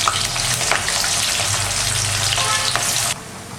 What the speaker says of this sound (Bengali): গ্যাসটা একটু সিমে দিয়ে লঙ্কাটা ছেড়ে দেবো, পেঁয়াজগুলো দিয়ে দিচ্ছি